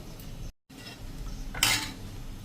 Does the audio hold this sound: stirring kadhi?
yes